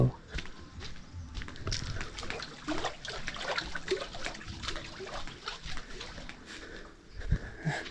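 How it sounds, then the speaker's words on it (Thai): Gentle stream water trickles and splashes steadily throughout, with faint background sounds and a few brief louder spatters near the end. "ทุกคนก็จะได้ยินเสียงน้ำไหล"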